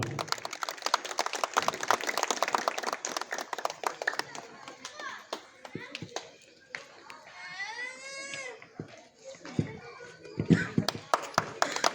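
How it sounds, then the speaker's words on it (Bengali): Audience at an outdoor winter clothing distribution event in a colony gives scattered hand clapping, brisk at first and then thinning into sporadic claps amid chatter, children's voices and background noise. "তো হাততালি দেবেন ওনার জন্য"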